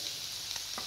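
Steady, close sizzling of butter frying in a pan over a low flame, an even crackling hiss with faint pops throughout.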